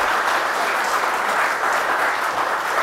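An indoor audience at a talk applauds a speaker's story, dense steady clapping from many hands filling the whole moment at even loudness.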